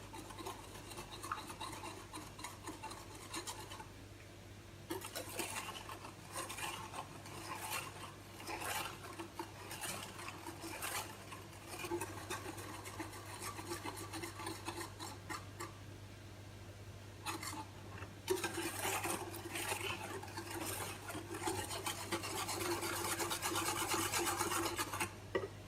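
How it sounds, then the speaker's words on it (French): Melted butter and milk being whisked into cake batter in a bowl, a steady scraping, rasping stir with soft clinks of utensil against the bowl, continuous at close range for the whole stretch with no talk. "Et je mélange."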